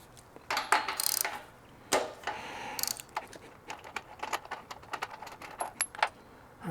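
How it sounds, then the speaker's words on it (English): A socket wrench works the spark plug out of a Honda GX390 engine, giving close, irregular metallic clicks, ratchet ticks and clinks with short pauses between them, and no voices. "let's go ahead and remove the spark plug."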